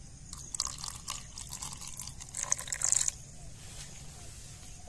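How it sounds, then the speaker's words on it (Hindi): Water is added to setua sabji cooking in a village kitchen, producing splashy drips and sizzling liquid sounds with a brief louder burst near the middle. "हल्का पानी ऐड करेंगे इसमें।"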